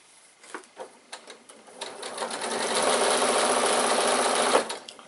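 A sewing machine stitches along the piping of a bag, with a few short bursts at first building into a steady, continuous run of close, loud stitching that stops abruptly.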